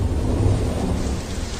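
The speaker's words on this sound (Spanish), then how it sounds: "Las tormentas azotaban los cielos y la lluvia comenzó a caer sobre la superficie rocosa" Steady thunderstorm with heavy rain pouring onto rocky ground, a dense continuous roar with deep low rumbling throughout and no voices.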